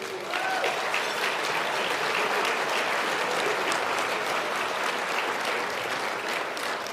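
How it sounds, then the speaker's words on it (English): Sustained, dense applause from a town hall audience greeting Ontario Liberal leader Steven Del Duca at a Canadian Club event, steady and loud throughout with no speech over it. "Round of applause for the leader."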